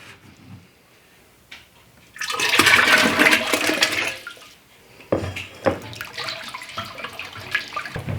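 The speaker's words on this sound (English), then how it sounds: "I'm just going to pour in my brine mixture and give it a good stir." Maple brine mixture poured into 7.5 quarts of water for a turkey: a loud, steady splashing pour for about two seconds, then quieter sloshing and intermittent clinks of stirring, with no talking.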